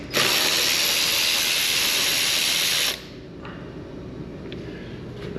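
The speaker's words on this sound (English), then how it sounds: "I'm going to take this bolt out also." A power tool whirs loudly and steadily for about three seconds while backing a bolt out of a Suzuki DR-Z400S motorcycle, then cuts off, leaving a quieter hiss and a couple of faint clicks.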